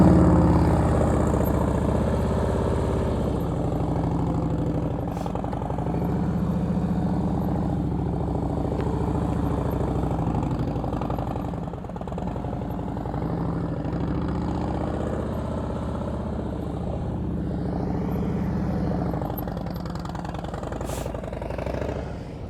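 A motorcycle engine runs at a steady idle on a riding lesson course, a continuous low, rumbling drone that holds even throughout with no talking over it.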